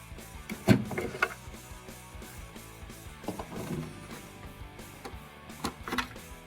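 Plastic bulb holders twisted out of a 2015 Ram 1500 tail light enclosure, giving a few sharp clicks and rattles spaced apart over a quiet background.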